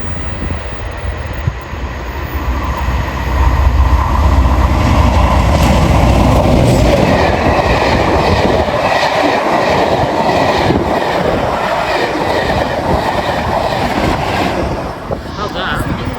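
A diesel train passes close by with a loud, sustained rumble and a rhythmic clatter of wheels, building and then holding steady before easing slightly.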